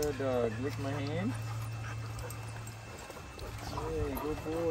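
A dog pants rapidly and close up while licking a person's hand, with a person speaking over the breathing.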